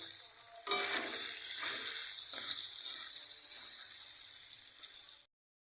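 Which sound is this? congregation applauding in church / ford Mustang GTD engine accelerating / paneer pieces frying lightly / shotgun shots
paneer pieces frying lightly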